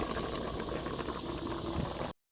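Homemade tomato sauce boils in a pot, a dense, steady bubbling and popping close up that runs without a break until it cuts off abruptly.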